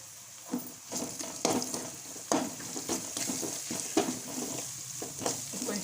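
Ginger garlic paste frying in a pan while making noodles, a soft steady sizzle broken by repeated scraping and stirring strokes of a spoon against the metal, close and irregular.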